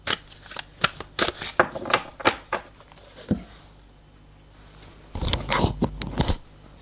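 A deck of cards is shuffled and cut for a card reading, giving a run of quick, close riffling flutters and slaps, then a short pause and a second dense burst of shuffling.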